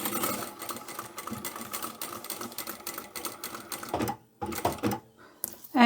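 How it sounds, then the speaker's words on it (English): A sewing machine stitches a giant drawstring laundry bag with a fast, steady mechanical whir close by. It halts briefly near the end, then restarts in short bursts between pauses. "Then come down to the next pin, back stitch and sew the rest of the bag together."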